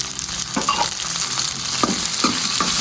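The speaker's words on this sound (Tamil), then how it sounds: "போட்டு அதை வதக்கணும்." Chopped onion, tomato and green chilli sizzle steadily in hot oil while a utensil scrapes and stirs the pan in repeated strokes, close by, with no talking.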